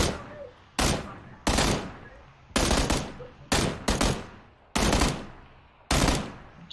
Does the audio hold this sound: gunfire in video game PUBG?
yes